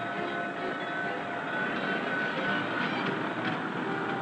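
A steady, rumbling drone of Santa Fe Railway yard engines switching railroad cars, with faint metallic squeals and clanks, continuous and moderately distant, with no voices.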